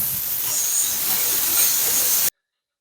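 Steam cleaner fitted with a nylon brush working on tile grout: a loud, close, steady hiss of escaping steam that holds for about two seconds, then cuts off abruptly into silence.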